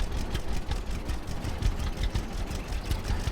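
A tractor engine in the farming video game Farmer's Dynasty chugs at idle, a low throbbing rumble with a quick repeating pulse, steady and fairly quiet throughout.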